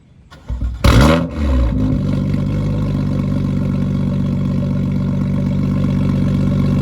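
A BMW M2 engine cranks and fires with a sharp loud bark in loud exhaust mode with the valves open, then settles into a deep, steady rumbling idle that carries on throughout.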